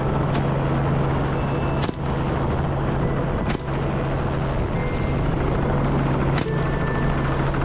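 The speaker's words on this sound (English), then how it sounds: "The helicopters soared into the sky" Helicopters taking off for a hunt in African farmland, a steady loud rotor and engine drone with a constant hum, broken by a few sharp clicks or knocks.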